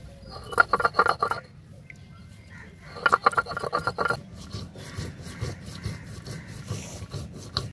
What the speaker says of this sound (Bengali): তো আগে আমি ধনে জিরেটা বেটে নেবো।